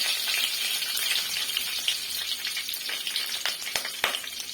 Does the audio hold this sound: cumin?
yes